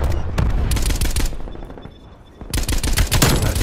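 Automatic gunfire in Call of Duty Black Ops Cold War, loud rapid machine-gun bursts, a brief lull, then another dense sustained volley, close and aggressive.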